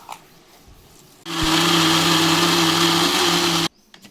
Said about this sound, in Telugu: ఇప్పుడు మిక్సీ పట్టేసుకుందాం ఇక మంచిగా కలుపుకొని మిక్సీ పట్టుకోవాలి